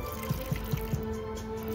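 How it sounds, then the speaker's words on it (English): Water poured into a bucket of drywall plaster mix for patching a damaged corner bead, a short steady trickle with four soft splashy pulses close by, no talking. "So we're gonna add our water."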